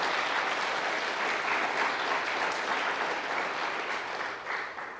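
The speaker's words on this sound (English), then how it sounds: "round of applause for all of our presenters and the sessions." Sustained applause from a conference closing-session crowd, a dense steady wash of clapping that holds loud throughout and tapers slightly near the end.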